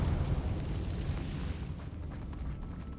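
A Confringo fire spell explosion in Hogwarts Legacy: a loud, rumbling blast with heavy low-end roar that sustains and slowly fades over a few seconds, no talking.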